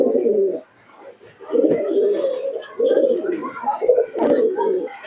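A Malbai pigeon coos in close, loud, throaty bursts, several rolling coos separated by short pauses, with faint chirps in the background.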